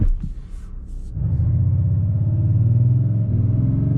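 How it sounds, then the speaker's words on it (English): A 2020 Audi S6 diesel idles quietly, then pulls away from a stop about a second in with a deep, swelling engine rumble that holds loud and steady. "I want to see what the acceleration is like, because this obviously is a 5-second acceleration"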